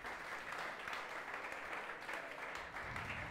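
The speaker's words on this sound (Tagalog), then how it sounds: "The best pong palakpak para kay Jesus." A church congregation applauds during a worship service: a short, even burst of clapping from many hands, faint and somewhat distant.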